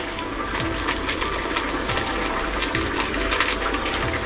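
Water trickling and splashing in a small room, a steady close gurgle with soft irregular spatters and no talk.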